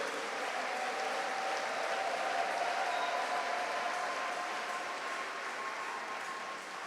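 A church congregation at an Easter Sunday service applauds in a steady, sustained wash of clapping that fills the hall, moderately loud throughout with no voice standing out.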